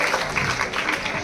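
Loud, sustained applause from an audience at an award ceremony honoring a poet, with dense, steady clapping throughout.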